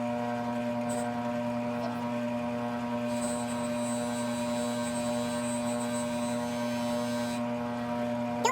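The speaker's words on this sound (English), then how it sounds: "now I'm just gonna shine it up on my buffing wheel and make this ring look brand new" Buffing wheel polishing a Tiffany & Co. silver beaded-edge ring, a steady motor hum with a high whine running continuously throughout, no speech.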